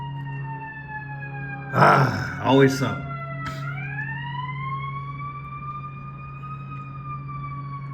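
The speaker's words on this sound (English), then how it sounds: "got that alarm, ambulance." A siren wails steadily with a rising and sustained tone behind someone speaking a few words in the middle, the siren continuing clearly under and after the talk.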